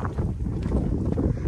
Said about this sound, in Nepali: हावा त्यस्तै चलिरहेको छ